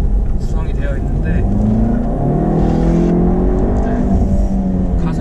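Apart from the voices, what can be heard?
Jaguar E-Pace gasoline engine revving while accelerating uphill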